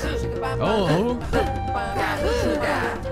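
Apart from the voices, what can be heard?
Barb monster singing in the video game My Singing Monsters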